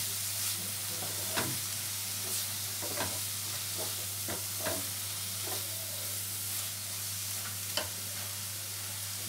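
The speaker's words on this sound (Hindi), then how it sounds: "इसको हम फ्राई होने देते हैं" Masala frying in a little oil for an onion curry, a soft continuous sizzle with occasional light stirring taps and scrapes, quiet and close, no talking.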